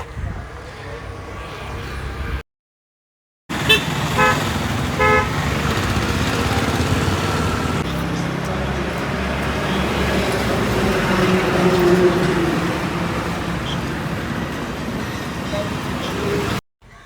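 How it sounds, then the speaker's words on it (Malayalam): Ride inside a moving bus nearing Kannur, with a steady engine rumble and road noise, brief horn toots, and a short silent gap near the start. "ബസ്സിൽ നമ്മൾ പോയിക്കൊണ്ടിരിക്കുക."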